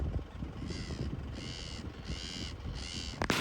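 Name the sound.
birds calling in a village in the morning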